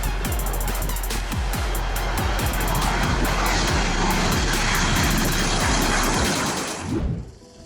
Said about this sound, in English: The old runway couldn't handle the power of the jet engine.